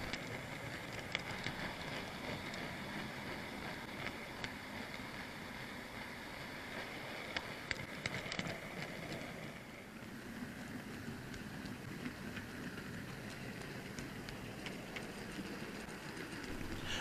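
On board behind Terrier steam locomotive 735, a steady, continuous rumble and rushing roar of the running train, with faint rhythmic clatter and occasional brief metallic clicks, no voices.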